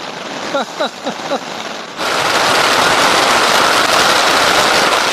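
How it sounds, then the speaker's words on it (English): Heavy rain pours down steadily at a campsite in early September, a loud, dense hiss that starts abruptly partway through after a few brief knocks, with no talk. "It's raining."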